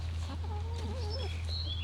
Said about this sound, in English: Anyway, there's some chickens.